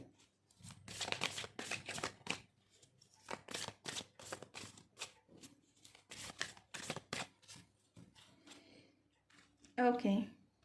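A Ganesha oracle card deck is shuffled close up: a run of crisp, rapid riffling bursts in quick succession, fairly quiet, ending with a brief tone.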